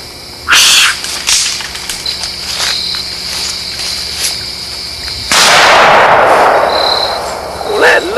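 A black powder rifle fires during a deer hunt, a sharp loud crack near the start followed later by a longer heavy blast with rolling noise, over a steady outdoor insect chirr.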